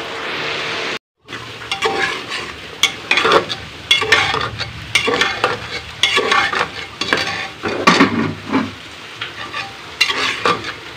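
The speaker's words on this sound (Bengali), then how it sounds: "পেঁয়াজ ভাজা হচ্ছে, পেঁয়াজের মধ্যে এখন দিয়ে দেবো তেজপাতা, আদা বাটা, রসুন বাটা, জিরা বাটা" Sliced onions with bay leaf and ginger, garlic and cumin paste fry loudly in a pan for a village-style chicken curry, with a steady sizzle broken by repeated scraping stirs and spoon clinks close by.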